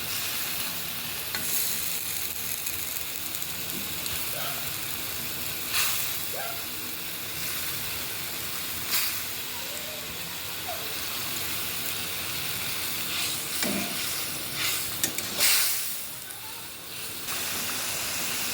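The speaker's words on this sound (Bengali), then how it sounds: "আমি এখন মাছটা দিয়ে দিচ্ছি।" Pieces of katla fish fry in a pan for a homemade onion-based dish, giving a constant bright sizzle with occasional louder spatters and stirring scrapes, close and alone without talk.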